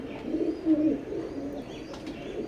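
A pair of imported Oman bloodline teddy pigeons coo softly in low, rolling, throaty notes, close by and fairly quiet against a faint background hiss, with no talking.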